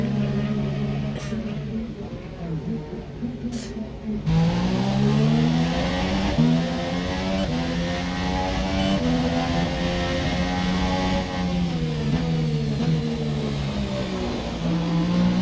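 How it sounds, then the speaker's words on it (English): A Formula 1-style race car pulls out onto a wet, nighttime Monaco Grand Prix street circuit, its engine rising loudly through repeated upshifts in long revving sweeps after a quieter start, close and sustained without talk. "he pulls out his car onto this wet and wild Monaco Grand Prix track"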